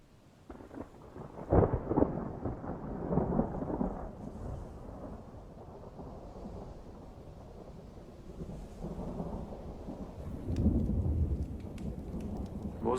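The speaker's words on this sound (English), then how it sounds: "Sounds like thunder." Thunder rumbling through a rainstorm, with a sharp crack early on and a later low boom. Steady rain hisses underneath the whole time at a moderate, fairly distant level, and no one speaks.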